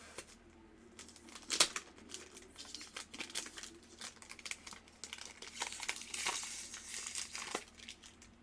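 Cellophane wrap crinkles and tears in close, irregular bursts as it is peeled off a Zimaya perfume box during unboxing, with a few sharper crackles standing out.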